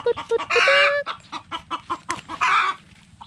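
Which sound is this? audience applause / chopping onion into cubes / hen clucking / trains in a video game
hen clucking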